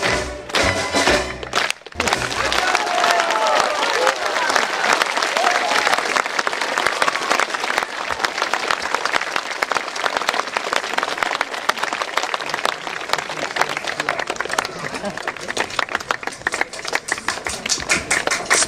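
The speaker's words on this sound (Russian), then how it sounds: "Спасибо за ваши аплодисменты" Sustained applause from a concert audience, dense and steady clapping that swells after a brief pause at the start and continues loud throughout, with scattered audience noise.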